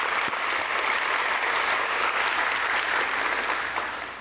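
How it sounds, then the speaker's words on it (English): A crowd at a nurse pinning ceremony for a graduating class applauds loudly and continuously, a dense wash of clapping that holds steady before easing slightly at the end. "you deserve a round of applause for that."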